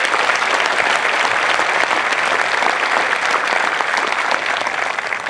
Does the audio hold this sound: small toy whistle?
no